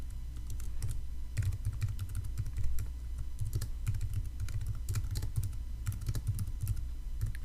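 Steady typing on a computer keyboard while entering text into an Excel spreadsheet cell, quick irregular clacks close by in short runs with brief pauses, no voices.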